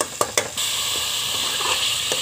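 Tomatoes softening in a hot pan give a steady, close hiss and sizzle, opening with a couple of brief clatters before the continuous frying noise settles in.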